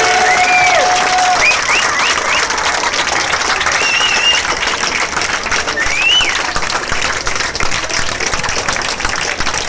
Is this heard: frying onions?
no